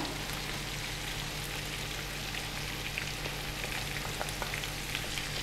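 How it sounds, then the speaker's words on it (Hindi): Onions and nihari masala frying in a pot over low flame, a dense steady sizzle with scattered faint crackles, close and constant with no talking. "प्याज को डालने के बाद हम इसको अच्छी तरह से भून लेंगे 30 सेकंड के लिए।"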